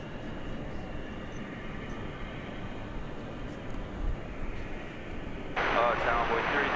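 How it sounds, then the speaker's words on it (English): A two-year-old Delta Airbus A320 jet at Dallas Fort Worth airport gives a steady, distant engine rumble and whine that swells louder near the end, heard alongside background airport noise. "this Delta A320 going to Minneapolis"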